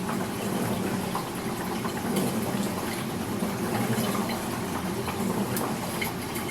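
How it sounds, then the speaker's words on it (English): Water drains from a Laundry Pod portable washing machine in a continuous, rushing wash with a low pump hum underneath, steady and fairly close, no voices. "While it's draining, the same thing as before. You want to just let all the water out"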